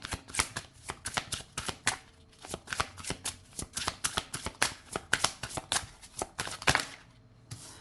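Oracle cards are shuffled by hand in steady, rapid riffles and flutters that run close and clear for several seconds, with short pauses between bursts and no voices.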